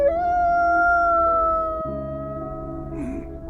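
A dog howls in a film scene, a long drawn-out wavering wail held for several seconds and slowly falling in pitch, ending in a brief rougher whimper, with no talking over it.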